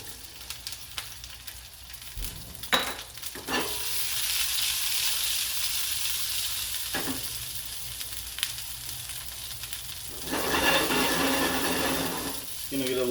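Grape tomatoes seasoned with dry basil, salt and pepper sizzle steadily in olive oil in a pan, a continuous close hiss with a few sharp clinks and scrapes and a louder burst of crackle near the end.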